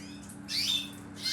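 Birds in an aviary calling, a few bright squawks and chirps rising over a constant low hum, spaced out across a short stretch with no one talking.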